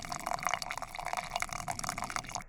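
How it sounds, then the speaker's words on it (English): Boiling water poured into a plastic container to make coffee at a car camp: a close, bubbly, gurgling pour with trickling splashes that runs steadily throughout, with no voices. "Just putting boiling water in plastic."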